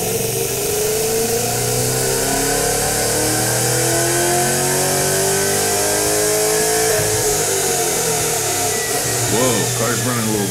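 A Chevy Camaro engine revs on a dyno, its loud, continuous mid-pitched drone climbing steadily through the run and wavering near the end, with no pauses.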